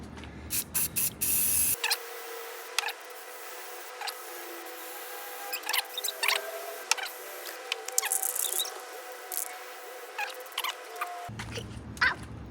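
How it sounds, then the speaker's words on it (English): Close, hissing blasts from a spray paint can: a few short bursts, then a long continuous spray, ending in more quick puffs. "We're going to spray some paint in here, okay?"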